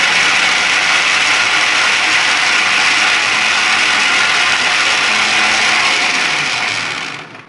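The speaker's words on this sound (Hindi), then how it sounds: "अभी इसको हल्का सा ग्राइंड करें।" A blender grinds mint leaves with 7 Up for a mint margarita, a loud, steady whir running close and unbroken for about seven seconds before winding down at the end.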